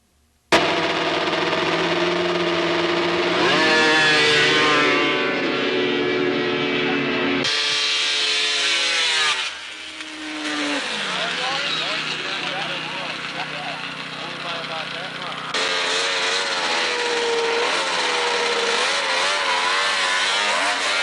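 Snowmobiles race at grass drags in Vermont, among them a 950cc free-air three-cylinder sled, with loud high-revving engines rising in pitch as they accelerate, several passes overlapping, and an announcer talking over them.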